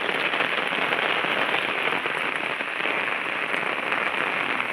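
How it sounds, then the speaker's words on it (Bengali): Heavy rain pounds steadily on a rooftop, a dense, continuous hiss close by with no breaks, loud and unbroken from start to finish. "প্রচণ্ড বৃষ্টি হচ্ছে"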